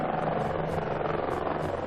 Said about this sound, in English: The U.S. Army Apache attack helicopter can destroy anything in its path.